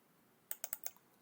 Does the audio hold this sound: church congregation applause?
no